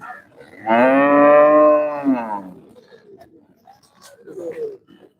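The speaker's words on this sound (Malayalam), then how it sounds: "ഒരു വെള്ള എരുമ കേട്ടോ" A white water buffalo at a cattle market gives one long, loud, close moo lasting over a second. Softer market sounds and faint voices follow.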